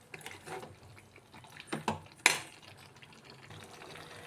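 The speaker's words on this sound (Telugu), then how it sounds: "ఇలా కారం వేసుకున్న తర్వాత దీన్ని కూడా బాగా కలుపుకోవాలండి" Chili powder is stirred into chicken curry with a spoon in a pot, giving faint, scattered scrapes and a couple of sharper metallic clinks, close and quiet, with no talking.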